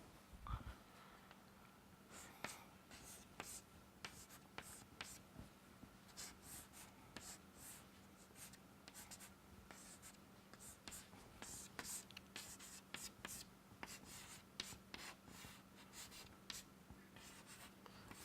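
Chalk or marker scratching across a lecture board in uneven strokes and taps, fairly faint over a low steady hum, with no words spoken.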